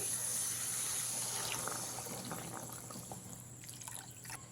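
Water poured into a rohu fish curry with potatoes makes a steady, soft liquid splashing and trickling that fades gradually, close by but fairly quiet, with no talking.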